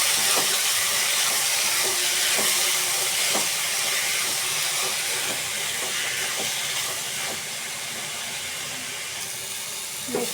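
Previously boiled vegetables sizzle in a hot pan with a constant broad hiss, while occasional scraping clicks from stirring come through close by.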